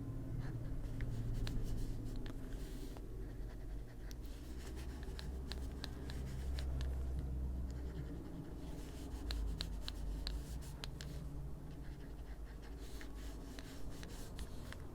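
Colored pencil scratching across paper in steady back-and-forth strokes while a rooster drawing is filled in, close, soft and continuous throughout.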